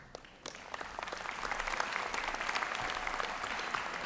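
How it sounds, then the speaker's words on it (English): Convocation audience applauding and cheering at a spring graduation ceremony, a dense, steady wash of many hands clapping that swells after a brief quiet start and holds loud throughout. "Full marks being given out this afternoon for cheering"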